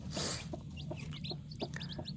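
Young chicks and Australorp chickens cluck and peep close by on a farm, a burst of rustling noise at first followed by a scatter of short high calls and low clucks, fairly faint overall.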